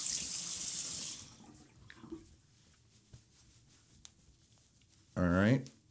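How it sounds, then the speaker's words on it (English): Tap water runs briefly over an alum block in a bathroom sink, first for about a second and again in a short splash at the end, with quiet handling sounds between. "I rinse off that alum block."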